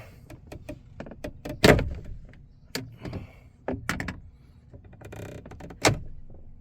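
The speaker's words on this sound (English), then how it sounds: "you could just turn and pull the door handle" Door handle of a 2020 Chevrolet Colorado pickup being pulled, producing a series of sharp clicks and clunks spaced by quiet gaps, close and fairly loud.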